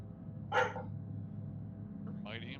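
Pet husky barking close to a gamer's microphone, one sharp bark near the start, then a second yelp toward the end over a low hum.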